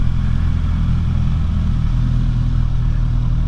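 A Suzuki GSX-S1000GX+ motorcycle engine drones loud and close with a deep, steady roar through a quick throttle, with no voices over it.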